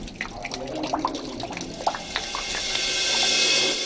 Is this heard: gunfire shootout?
no